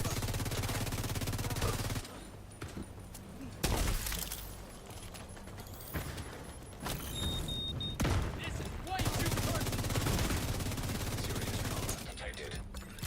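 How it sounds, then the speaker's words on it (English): Grenades explode over and over in a multiplayer video game PvP match, with loud blasts and gunfire layered into a dense, continuous barrage and almost no pauses. "we got a friggin' nade spammer"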